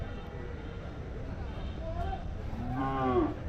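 HF dairy cattle at a Wednesday cattle market in Orappam; one cow gives a single loud, drawn-out moo near the end over a steady background murmur and talk.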